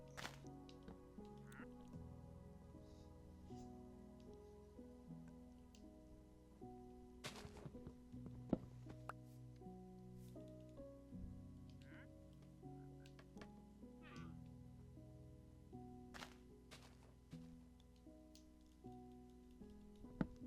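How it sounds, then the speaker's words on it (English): Frogs croaking in Minecraft, faint scattered croaks among quiet ambient game music with soft tonal notes, distant and low in level. "hear the frog sounds. That's pretty cool."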